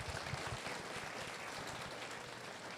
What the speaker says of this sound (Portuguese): Então dê um aplauso a Jesus bem forte.